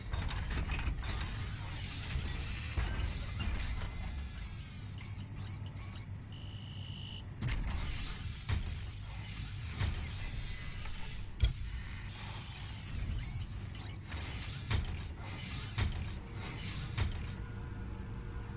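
A single-pilot walker machine in Metal Gear Solid 5 starts up with whirring mechanisms, creaks and ratcheting gear clatter, busy and fairly loud throughout, with no talk.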